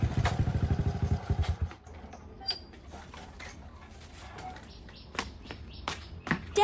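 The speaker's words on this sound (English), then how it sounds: "the sound of her dad's motorcycle reached the gate." A motorcycle engine putters close by and then cuts out as it pulls up at a gate. Scattered clatters, taps and faint bird chirps follow in the quiet.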